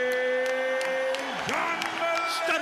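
Crowd at a boxing match cheers and applauds for Stuttering John in a steady wash of noise, with a sustained tone and occasional voices running through it.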